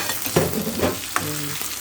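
Onions dropped into a hot frying pan with egg and zucchini already cooking, giving a steady close sizzle with a few stirring scrapes, no talk over it.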